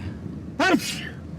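A single sharp sneeze bursts out close by against a quiet background.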